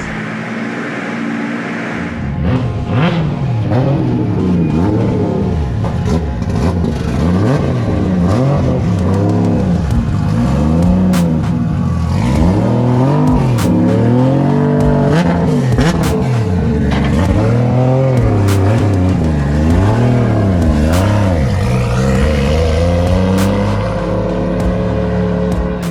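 A built 2JZ engine with a Garrett G35-1050 turbo roars loudly on a dyno, revving up and down repeatedly in sweeping waves of pitch with turbo whoosh and crackle throughout, close and sustained for the whole stretch.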